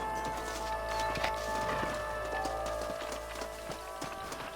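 Horse hooves clip-clop in a rhythmic run in the video game Red Dead Redemption, set against a steady, dense background of in-game ambience and music at moderate level.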